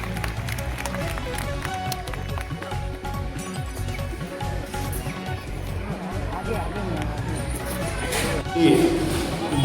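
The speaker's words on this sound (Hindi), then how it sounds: "एक बार जोरदार ताली बजाकर उनका" A crowd at a blanket distribution event for elderly people claps loudly to welcome guests, dense steady applause mixed with babble and movement, swelling near the end.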